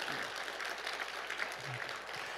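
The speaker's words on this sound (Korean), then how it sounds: "박수 한번 쳐주시면 감사하겠습니다" Congregation applauding during a Sunday evening church service, a steady dense wash of clapping from many hands throughout, with no voices over it.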